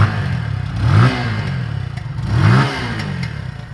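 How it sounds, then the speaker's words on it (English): A motorcycle engine idles with a throaty exhaust burble and revs twice in quick swells, each rising and falling back to idle. "So that's the exhaust note of the motorcycle."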